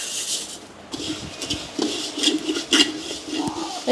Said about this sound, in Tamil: இந்த சின்ன ஜீரகத்தை போட்டு வறுப்போம்